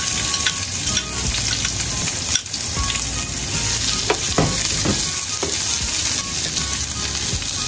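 Chopped white onion sizzles and fries in a hot pan for sautéed sardines with misua noodles, a steady loud crackle running the whole time with occasional stirring clatter and no talk.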